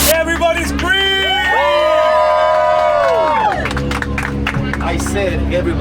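A theme park ride crowd on a bayou boat cheers and shouts when asked to scream, voices and whoops mixed with a host's talk and overlapping music-like tones.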